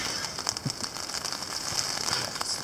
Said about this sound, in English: I want you to make the rain stop.